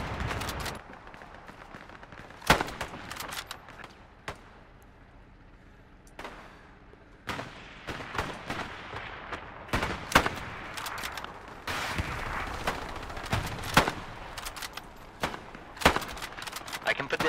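Gunfire and explosions from bombing crash through a Hell Let Loose multiplayer battle as sharp cracks and bursts, some spaced apart and some in rapid clusters. Players talk over the fighting.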